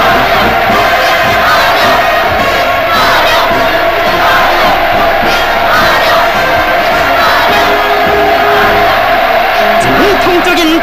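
A large crowd roars and cheers at a mass welcome for Vladimir Putin in North Korea, a dense, steady wall of voices and shouts that stays loud throughout.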